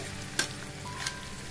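Onion and chicken drumsticks frying in a pan give a steady low sizzle, with two brief sharper clinks or stirs standing out above it.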